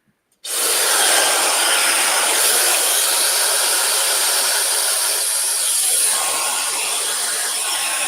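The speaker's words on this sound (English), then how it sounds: "I'm going to take my blow dryer and my comb." A hair dryer switches on abruptly and blows with a loud, steady whooshing roar that continues unbroken.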